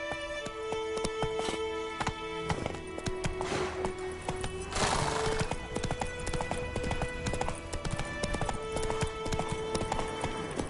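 Hooves of Geralt's horse Roach clip-clopping in The Witcher 3, a steady rhythmic trot over continuous game music and ambience, fairly close, with no talk.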